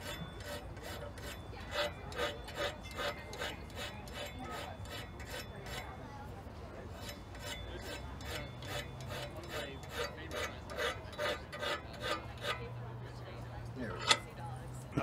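Rhythmic rasping strokes of a file sharpening a small pin, repeated quickly and evenly at close range over a steady outdoor background at a fair.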